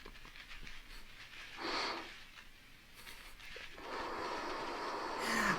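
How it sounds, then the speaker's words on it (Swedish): Heavy, rasping breaths in a film scene come in separate bursts of inhaling and exhaling, quiet at first and then longer and stronger toward the end. "Och den där andningen."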